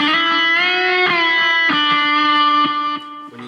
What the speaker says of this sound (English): Really good rocking guitar.